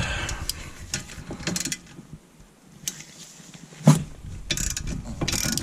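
A ratchet works loose the rear brake caliper bracket bolt on a 2016-2018 Honda Civic, giving bursts of close, rapid clicking separated by brief pauses and a single sharp metallic knock.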